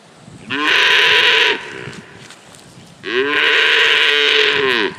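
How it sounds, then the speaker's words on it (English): Cows on a wildlife management area give two loud, drawn-out moos close by, each lasting about a second, separated by a short quiet gap, with no talking. "I have these cows here blocking my way."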